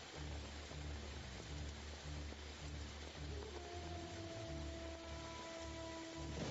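Steady rain hisses through a film scene, a broad continuous wash with low rumbling tones beneath and a faint sustained tone entering partway through; no voices.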